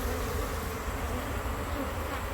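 Steady, dense buzzing of many honeybees around their hive, close and continuous, with no break or change throughout.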